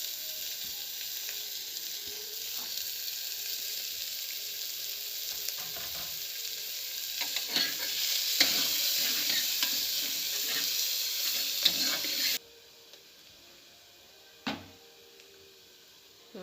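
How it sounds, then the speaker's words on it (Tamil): Chopped onions fry in hot oil in a cooker for chicken salna, giving a loud, continuous sizzle with intermittent scraping stirs that stops abruptly near the end, followed by a single sharp clack. "இப்போ நெக்ஸ்ட் வந்து நம்ம நறுக்கி வச்சுருக்க வெங்காயத்தை ஆட் பண்ணிடலாம்."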